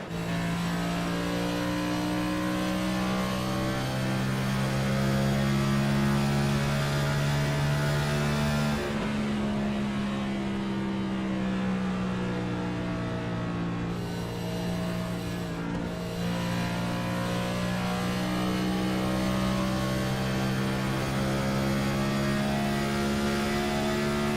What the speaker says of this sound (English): There it is, Brandon Moore off throttle, coasting through the corner.